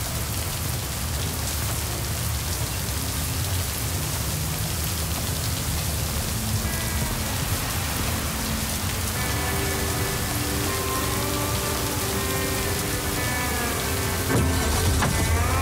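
Steady rain pours throughout a scene in the video game Lake, a dense continuous hiss with no talk, while faint tonal music drifts in partway through.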